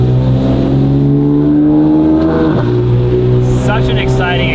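Porsche 992 GT3 RS fitted with a Valvetronic RSR exhaust, heard from inside the cabin revving with a loud, rising and falling howl, while someone talks over it.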